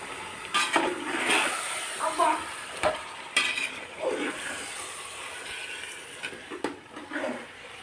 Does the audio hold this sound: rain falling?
no